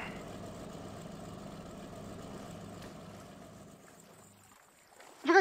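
Boat engine from Grand Theft Auto 4, a steady low idling drone with water wash that slowly fades, then a sudden louder burst right at the end; no talk over it.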